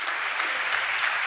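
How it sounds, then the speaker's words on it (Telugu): A church congregation at Emmanuel Ministries in Hyderabad claps together during worship, a dense, steady wash of many hands sustained evenly for the whole brief moment. "చప్పట్లు కొడుతూ స్తోత్రాలు చెప్దాం."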